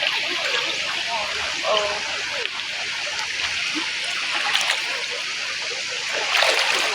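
Steady rushing water from a waterfall in a rural province setting fills the scene with broadband hiss, with a person talking and exclaiming intermittently over it.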